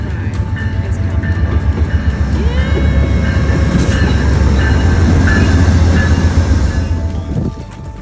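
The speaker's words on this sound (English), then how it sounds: "waiting for the train to come pick us up" A train rolls in along the rails, a loud steady rumble with clacking wheels and faint squeals building close by for several seconds before easing off near the end, with no talk.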